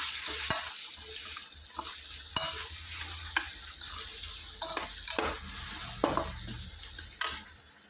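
Ginger garlic paste and salt fry in a pan with a close, steady sizzle, while a spoon scrapes and clinks in scattered strokes against the metal.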